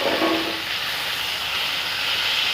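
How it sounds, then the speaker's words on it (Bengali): Fried potatoes and tomatoes go into sizzling masala in a pan and are stirred, while cooking a tomato fish curry; a steady close hiss of frying runs throughout with no talking. "এখন তাতে দিয়ে দেব ভেজে রাখা আলু টমেটোগুলো।"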